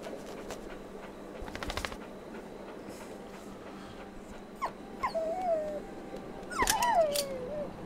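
A dog caught in a trap in the horror video game Maid of Sker gives a few drawn-out, falling whimpers and whines over dark ambient game sound, with a brief noisy burst earlier on.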